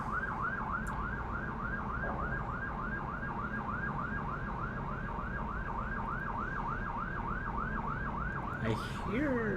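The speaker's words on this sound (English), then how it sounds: "I think that might be a car alarm." A car alarm sounds outside, cycling steadily through a repeating warbling whoop at an even pace for the whole stretch, heard from a distance through a room with a low background rumble.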